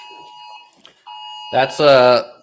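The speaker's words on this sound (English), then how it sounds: "There's a hurricane that's going to roll through Florida, so I'm getting a hurricane warning." A phone emergency alert for a Florida hurricane warning sounds as steady, piercing electronic tones that break off briefly and then resume. Near the end the tones blend with a loud harsh buzzing burst.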